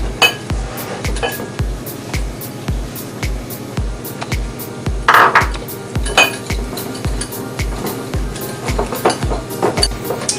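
A spoon stirs a milk and cornstarch mixture in a pot, giving a steady rhythm of close, sharp metallic clinks against the pot walls, repeating roughly every half second with no speech.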